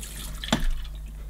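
Rug Doctor carpet cleaning solution is poured into the tank of a Mighty Pro X3 carpet washer, giving a short, faint liquid splash over quiet background hum.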